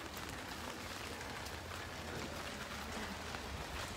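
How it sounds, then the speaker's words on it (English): Rain falls on a Paris street off Rue Lepic in Montmartre, a steady, fairly soft hiss of drops pattering on the pavement without a break. "I saw the rain was not going to let up at all"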